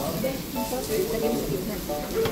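Hida beef sizzles and fries steadily on a hot surface at a Takayama lunch, with close, constant crackling hiss. Voices talk quietly over it.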